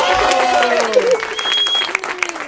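Audience applause on a talk show panel, steady clapping layered under voices that continue talking over it.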